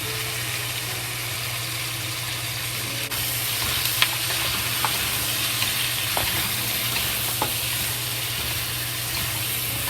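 Star anise and other spices fry in a pan for a rib and vegetable stew, with a steady, close sizzle and a few light stirring clinks. No one speaks.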